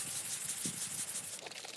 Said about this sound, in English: Once it's dry, give the glue a light sanding, mainly to scuff up the glossy surface so the paint sticks better.